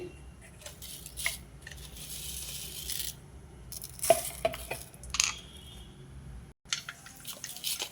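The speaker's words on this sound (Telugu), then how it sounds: "ఆయిల్ వేడైంది కొంచెం ఆవాలు వేస్తున్నా అవి కొంచెం ఆడాలి" Mustard seeds in hot oil sputter and pop in quick, irregular little cracks and crackles over a faint frying hiss, close and fairly quiet, with a brief gap near the end and no voices.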